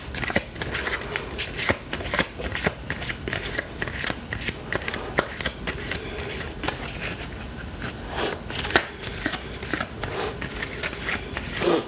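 Angel answer oracle cards with gold trim being shuffled by hand, a continuous close, papery riffling with dense rapid flicks and occasional louder snaps, no one speaking.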